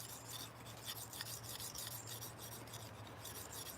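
Steady rasping scrapes of a steel knife blade drawn back and forth across a whetstone, quiet and close, in a continuous rhythm of repeated strokes with no voices.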